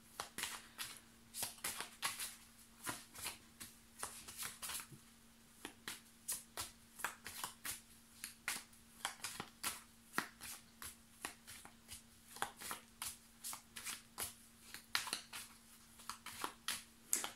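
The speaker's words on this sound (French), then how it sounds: "J'échappe toutes les cartes," Tarot cards spilling and being gathered up by hand, heard as a long run of crisp, close papery flicks and slaps in irregular bursts, with no one speaking.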